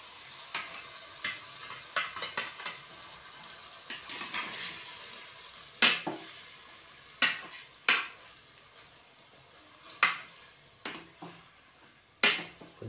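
Chicken pieces fry in hot oil for an Indian-style gravy curry, with a constant sizzle punctuated by sharp spatula clanks against the pan at irregular intervals, and no voices.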